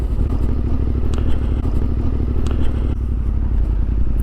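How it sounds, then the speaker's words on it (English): A Triumph Sprint ST 1050 motorcycle engine idles close by with a steady, throbbing rumble and light mechanical clatter throughout. "What's the bike? Triumph Sprint ST 1050."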